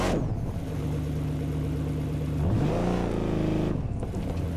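A car engine in the racing game The Crew 2 cranks into life, settles into a rough idle, then revs up and drops back a couple of times, loud and close.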